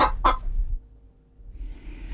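Short chicken clucking sound effect inserted into a television profile, two quick loud clucks at the start, then quieter background noise with a faint high tone toward the end.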